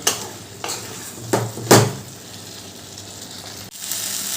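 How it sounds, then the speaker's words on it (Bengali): Ground cumin and chili powder being sautéed in a pan, with a few sharp scraping stirs over a steady low sizzle, heard close up. "এবার সব মশলা ভালো করে কষিয়ে নেব"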